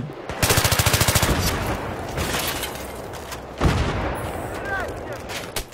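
Battlefield 3 gunfire opens with a fast burst of automatic shots, then a steadier din of firing and one heavy boom later, loud and close throughout, with a voice talking over it.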